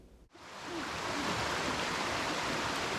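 Boland's Creek flowing beneath a footbridge on the Black Mountain Crest Trail, a loud, continuous rushing of water that swells in after a brief quiet start and holds steady.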